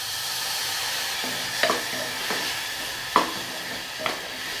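A spoon stirs soya chunks and rice in a pressure cooker with salt and chilli powder, giving a steady sizzle and hiss broken by several distinct scraping clinks against the pot.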